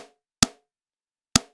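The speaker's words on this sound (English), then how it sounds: "so we're getting a very realistic kind of click sound." Two sharp, isolated rim clicks from a WMD Kraken Eurorack snare drum module, spaced about a second apart, crisp and dry with a short ringing tail and silence between.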